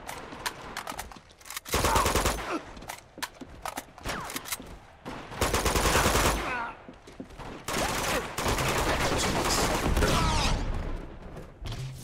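Rapid gunfire from rifles and shotguns in the video game Uncharted 2, with loud repeated bursts and single shots broken by short pauses, and several dense volleys close in the mix.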